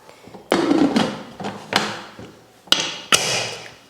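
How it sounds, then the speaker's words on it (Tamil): A pressure cooker lid is shut and its whistle weight set in place, giving a handful of sharp metallic clanks and knocks spread over a few seconds, close and clear with no talking. "குக்கர் மூடி போட்டு விசில் போட்டாச்சு."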